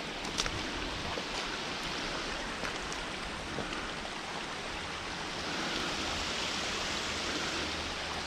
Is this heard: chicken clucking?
no